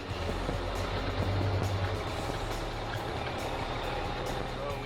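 A big truck hauling a massive excavator makes a tight turn at a marina and RV park, its heavy engine rumbling steadily and close, with faint intermittent ticking or beeping above.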